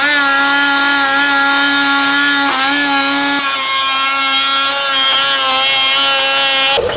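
A power tool whines loudly and continuously while cutting a plastic bumper on a 2014-or-later Toyota Tundra during a slimline bumper install, its pitch shifting slightly as the load changes and then stopping abruptly at the end.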